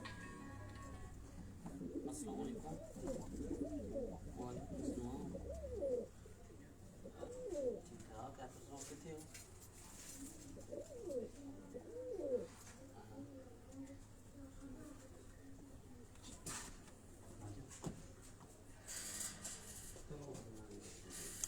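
Soft pigeon cooing repeats through the clip, low burbling calls mixed with people talking nearby and some background bustle.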